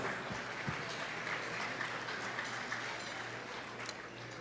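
Steady applause from a crowd at a charity gala auction fills the whole stretch, a dense even wash of clapping at moderate distance, with no voices standing out.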